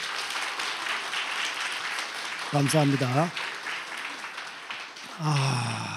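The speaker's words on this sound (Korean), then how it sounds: "우리 박수로 환영하시겠습니다" A church congregation applauds to welcome a new member, a brief, moderate patter of clapping under someone speaking, with a short sung or spoken phrase rising partway through and another voice near the end.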